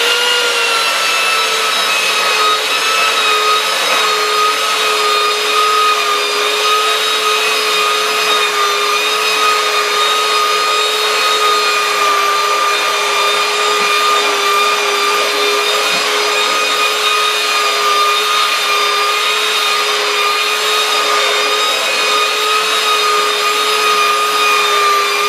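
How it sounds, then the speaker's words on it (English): A Skil power sander with coarse 36-grit paper grinds across cypress wood in one continuous loud, droning whine with a gritty rasping texture throughout, without any talking. "I'm just going to sand most of this down and then smooth it down with the Armdillo."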